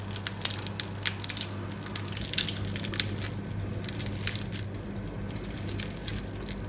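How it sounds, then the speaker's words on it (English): Crispy oven-smoked dried mackerel crunching and crackling steadily up close, with dense sharp brittle snaps throughout and no talking. "Can you hear how crispy the mackerel is sounding?"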